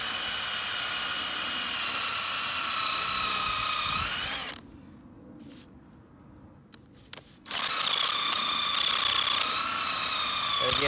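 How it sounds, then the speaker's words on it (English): An impact drill, used as a regular drill, bores holes in plastic lumber for landscape edging, whining loudly in two sustained bursts separated by a few quiet seconds. "I'm using my impact drill for a regular drill, but it's working pretty well"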